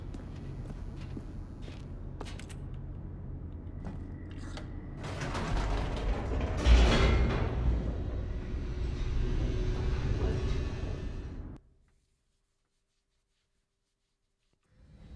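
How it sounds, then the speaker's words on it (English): The elevator in The Stanley Parable Ultra Deluxe descends with a creaking, grinding mechanical rumble that swells louder midway, then stops abruptly into near silence. "The elevator raced downward, plummeting towards an unknown fate."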